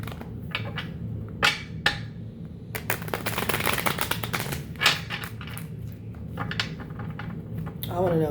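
Tarot cards are shuffled in quick riffling bursts and taps during a reading, close and crisp, with talk over parts of it.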